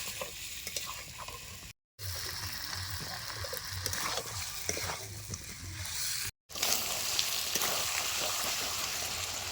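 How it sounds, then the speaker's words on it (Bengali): Chicken with spices sizzles and fries in a wok, a steady close crackle with stirring scrapes, broken by two short gaps, with no talk over it. "সমস্ত মশলাপাতির সাথে চিকেন সেটাও ভালো মতো একটু কষায় নেবো"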